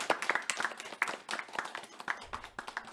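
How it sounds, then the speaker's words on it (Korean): Applause from a small group at an online housing-supply and urban-planning seminar, several people clapping close by in a steady, uneven patter that lasts the full three seconds. "박수 한번 크게 치시죠."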